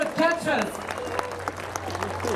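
An audience at a Winnie the Pooh stage show in a Disneyland Paris theatre claps in a dense burst of applause, with a voice speaking briefly over it at the start.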